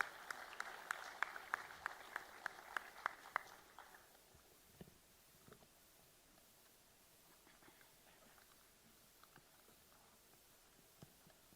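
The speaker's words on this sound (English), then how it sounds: "A huge round of applause to TCS CodeVita Season 12." An audience at the TCS CodeVita Season 12 award ceremony claps in a burst of applause for about four seconds before it thins to scattered faint claps and room noise.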